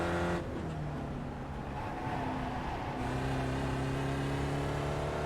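A Spec Racer Ford race car in the iRacing sim at Oran Park drones loudly, its engine note holding steady then shifting pitch as it accelerates through gears, with faint tire noise and no talk.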